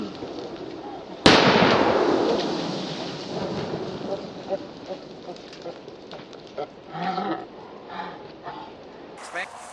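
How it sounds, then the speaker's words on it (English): A sudden loud blast as the boat SS Miatus explodes, followed by crackling, popping debris and fire noises that fade gradually, with people talking and reacting throughout. "The SS Miatus explodes."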